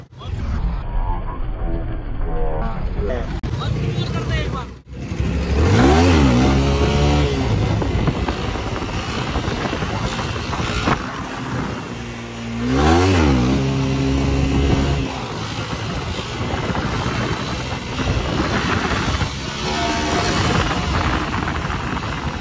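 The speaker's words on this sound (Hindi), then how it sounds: "मैं एक बार इधर साइड से भी आपको लॉन्ग व्हीली करके दिखा देता हूँ।" A motorcycle engine revs and surges in second gear during a long wheelie, loud and sustained with repeated rises and falls in pitch, with brief talk underneath.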